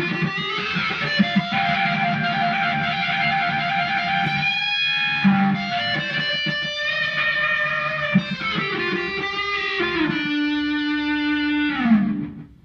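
Distorted electric guitar runs through a Big Drip custom boutique effects pedal, playing sustained chords and note runs with a gritty, saturated tone for about twelve seconds, loud and alone with no talking.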